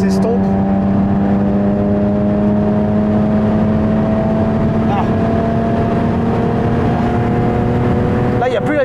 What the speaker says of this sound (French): Là, il n'y a plus la vibration. Là, il n'y a plus de vibration du moteur.